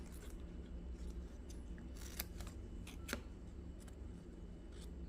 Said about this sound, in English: I will trim off the excess.